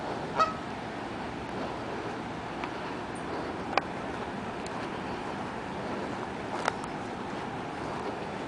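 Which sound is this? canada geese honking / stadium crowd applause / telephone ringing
canada geese honking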